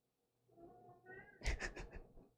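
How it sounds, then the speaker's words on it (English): A house cat meows once indoors, a drawn-out rising call that swells into a louder, harsher yowl before fading, fairly faint and alone with no talk. "Sorry, I'm looking after a friend's cat."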